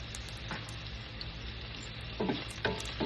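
Sliced onions going into a hot pan for a sardine dish, a soft continuous frying hiss with a few faint scrapes and clatters near the end, quiet and close.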